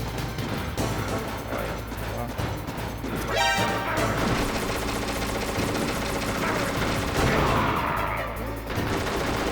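A grenade bursts in Metal Gear Solid Integral during a boss fight, sounding as a loud crash amid dense gunfire and busy game music that runs continuously.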